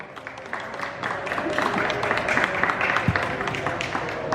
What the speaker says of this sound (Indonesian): Kita tepuk tangan buat Ricky Mati Lemas.